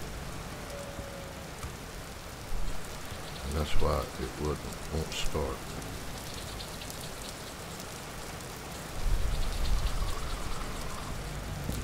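Rain falls steadily in the video game Vintage Story, a constant soft hiss with a heavier wash toward the end, while a person talks briefly over it.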